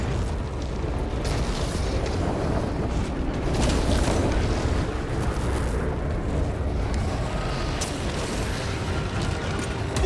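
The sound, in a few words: Helldrake pyrogenic bombardment explosions, video game Warhammer 40k Space Marine 2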